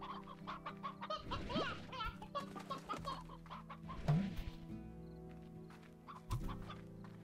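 Chickens and roosters in the Slime Rancher video game cluck and squawk close by in uneven bursts, with a few rising calls over a low ambient hum.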